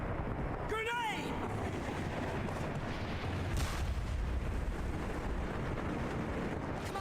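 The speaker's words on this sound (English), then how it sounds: "Grenade!" A grenade goes off in SOCOM Combined Assault amid a noisy, wind-blown battlefield rumble, its deep boom rolling under constant game noise with a brief whistling sweep beforehand.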